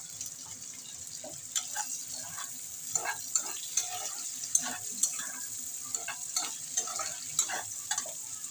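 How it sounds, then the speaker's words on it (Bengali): Chopped raw onion and potatoes sizzle together in a hot pan, a steady frying hiss broken by repeated scraping stirs throughout, close and moderately loud with no talking. "পেঁয়াজ আর আলুটা একসঙ্গে ভাজা হয়ে যাবে।"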